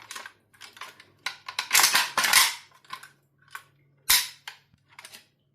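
A Russian Bakelite magazine fitted into an Izhmash AKM rifle, a series of close, sharp metallic clicks and clacks of handling and latching with brief pauses between them.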